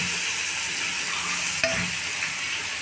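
Radish pieces sizzle steadily in a hot oil tempering of cumin, fenugreek and dried red chillies, a constant close frying hiss with one brief stir or clink partway through.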